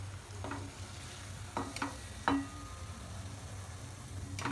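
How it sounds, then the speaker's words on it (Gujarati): Vada frying in hot oil give a low, steady sizzle, with a few light scrapes and clinks as a utensil turns them in the pan. The sound is fairly quiet and close, with no speech. "હવે આપણે તળતા હોય ને ફેરવતા જઈશું અને કેવા તળાય છે"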